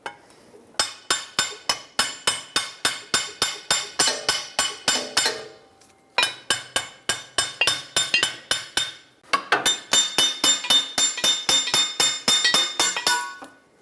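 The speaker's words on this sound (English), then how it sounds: "what I'm going to do now is just tap the caliper bracket off and basically slide it out this way" A seized rear brake caliper bracket on a Ford E-350 Super Duty is hammered loose with rapid metallic taps in three bursts separated by brief pauses, each strike sharp, ringing and close.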